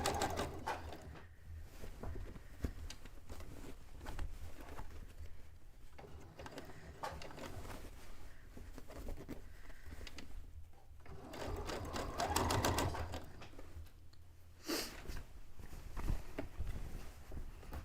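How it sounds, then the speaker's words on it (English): A sewing machine stitches fabric around a curve while a cone-shaped cape or dress is made: a steady, whirring mechanical hum with irregular bursts and pauses as the fabric is guided, heard up close throughout. "You're supposed to keep the bulk of the fabric on this side of the sewing machine"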